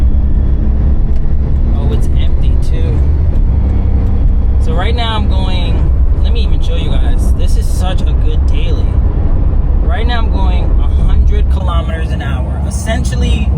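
Daihatsu Terios K car cruising on a highway, steady engine and road drone heard from inside the cabin, with a person talking over the noise for much of the time.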